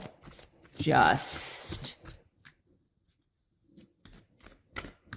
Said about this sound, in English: let's cut the cards here